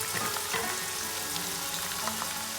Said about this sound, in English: I want the onions to be cooked nice and brown.